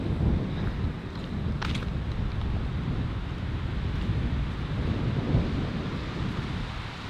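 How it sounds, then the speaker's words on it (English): Strong gusting wind buffets an outdoor microphone fitted with a wind muff, giving a steady, loud, low rumbling roar that surges and eases for the whole stretch, with no voices. "super windy. Perfect situation to see if this wind muff even does anything."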